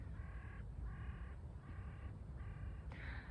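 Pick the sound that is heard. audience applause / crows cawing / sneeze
crows cawing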